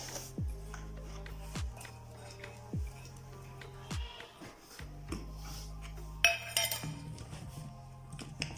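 Moong dal dosa batter is stirred together with ground ginger-garlic paste in a metal vessel, producing repeated faint clinks and scrapes of a spoon against the pot at a slow, uneven rhythm, close and quiet.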